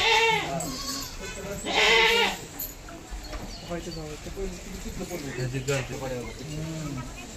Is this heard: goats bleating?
yes